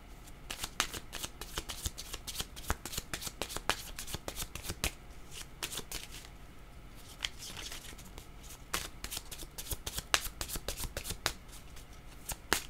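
Tarot cards shuffled continuously by hand during a French card reading, a steady riffle of rapid papery flicks and snaps, close and fairly quiet with no talk.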